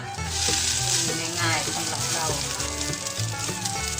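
Steady sizzling and crackling of sticky rice cakes frying in butter in a pan over low heat, close and continuous, with faint scraping and a soft voice underneath.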